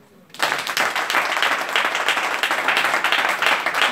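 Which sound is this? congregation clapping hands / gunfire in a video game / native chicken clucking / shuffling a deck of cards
congregation clapping hands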